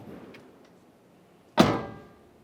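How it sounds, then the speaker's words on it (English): A single sharp mechanical clunk of a rear passenger exterior door handle on a Nissan Titan pickup being pulled, close by, after a quiet pause with faint background noise. "Now just test the door handle functionality."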